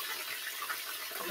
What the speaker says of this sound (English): Yeah, I gotta put some water in this.